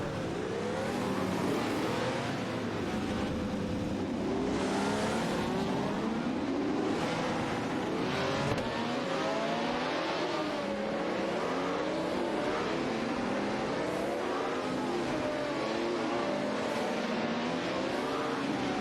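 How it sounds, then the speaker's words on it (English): Several race cars lapping Willow Springs Horse Thief Mile in a video game, engines droning steadily at moderate distance with overlapping passes and a rushing, washy texture throughout. "Let's see some exciting racing action today at Willow Springs Horse Thief Mile Track."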